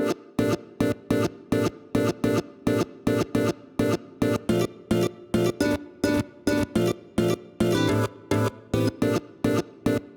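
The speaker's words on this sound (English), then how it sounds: "I've put a guitar loop into a simpler and just done some processing, like a lot of this reverb stuff." A looped guitar phrase played from a sampler repeats in short, evenly chopped bursts with a washy reverb tail, steady and rhythmic throughout.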